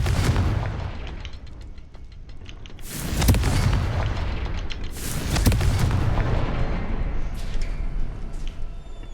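Blasting spell explosions from the video game Hogwarts Legacy boom out in a few heavy, rumbling bursts over a steady low background, with no speech.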